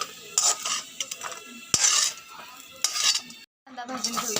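Roasted food for a rajma recipe is scraped out of a pan onto a plate, making a run of sharp metal scrapes and clinks with short gaps and a moment of silence near the end.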